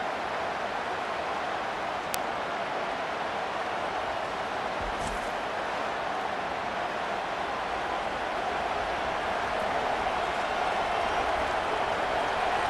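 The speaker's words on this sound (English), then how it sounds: "Decibels rising as the crowd gets behind this defense on third down" Steady, dense roar of a stadium crowd at a college football game between the Oregon Ducks and Oregon State Beavers, a loud continuous wash of cheering that swells slightly toward the end, with no talk over it.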